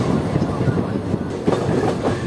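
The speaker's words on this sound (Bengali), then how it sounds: "আমাদের ট্রেন এখন ধীর গতিতে মেন লাইন থেকে বাফার লাইনে নিচ্ছে।" The Kaviguru Express, Azimganj to Howrah, crawls slowly from the main line onto a loop line with a low rumble and soft, irregular wheel clatter. Faint background chatter runs underneath.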